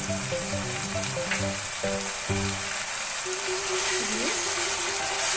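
Ginger paste fries in a pan for chicken kosha, giving a steady, loud sizzle close up, with a tonal hum and brief ringing tones layered over it throughout.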